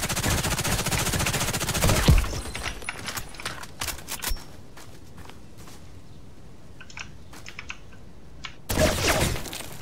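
FN P90 submachine gun firing in the shooter Contract Wars: a dense loud burst at the start, then scattered sharp clicks and short shots, and another loud burst at the end.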